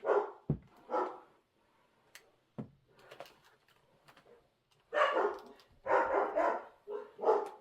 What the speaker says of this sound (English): One of them starts barking, and then they all want to bark.